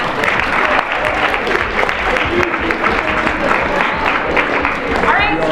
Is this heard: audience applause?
yes